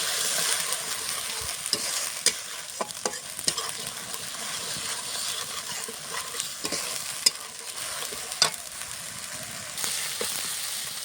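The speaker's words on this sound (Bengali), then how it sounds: "মশলাটা আমি হালকা করে কষিয়ে নেব" A masala of ginger, green chilli, dried chilli and cumin paste is sautéed in a pan. A continuous close sizzle runs throughout under frequent scraping stirs and occasional sharper ladle knocks.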